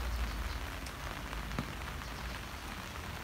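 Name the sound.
rain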